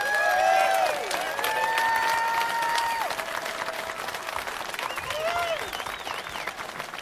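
A rally crowd at an Alberta independence gathering applauds in a sustained, moderately loud clatter of many hands, with whistled or sung tones and some voices rising over it.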